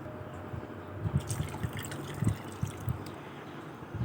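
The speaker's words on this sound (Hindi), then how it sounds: "चीनी शामिल करने के बाद अब इसमें मैं शामिल कर रही हूँ पानी।" Water is poured into a pot of peaches and sugar for sherbet, a steady trickling and splashing that runs throughout with a few louder drips and gurgles, no voices.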